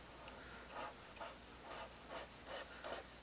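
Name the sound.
trimming the edge of a craft foam belt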